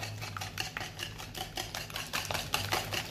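Eggs, sugar and oil whisked by hand in a bowl give quick, repeated clicking strokes of the whisk. The rhythm is steady and close, with no voices.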